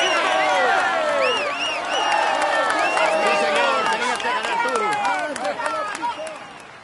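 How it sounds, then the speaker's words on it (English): A large crowd at the Tour de France claps and cheers loudly and continuously for a cyclist, with whistles and whoops rising over the applause throughout. "Come on, let's applaud him once more."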